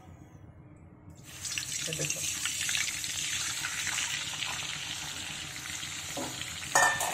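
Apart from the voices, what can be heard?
amla water poured into heating hair oil, sizzling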